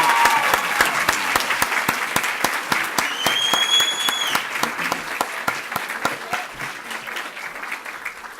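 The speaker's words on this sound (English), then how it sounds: "And a round of applause for the students from the School of Art, Science, and Management." An awards-ceremony audience claps loudly for students from the School of Art, Science, and Management, a dense, sharp burst that slowly thins and softens toward the end.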